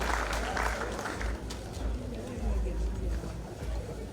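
Scattered clapping from a crowd at a Kenyan public fundraising gathering in Nyandarua, a steady mid-level patter lasting throughout with a broad murmur of voices mixed in.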